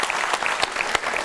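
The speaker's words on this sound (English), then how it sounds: "give a round of applause to the Savoy for having us all together" Audience applause at the Savoy Automobile Museum during an evening event, a brief burst of dense clapping with a few sharp individual claps standing out.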